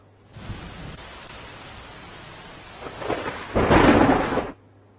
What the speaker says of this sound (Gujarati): બનાસકાંઠા જિલ્લામાં સવારથી ધોધમાર વરસાદ પડી રહ્યો છે